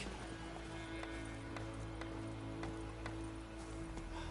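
Hooves of a horse in The Witcher 3 strike in an even, steady rhythm, faint and soft under a constant game background hum.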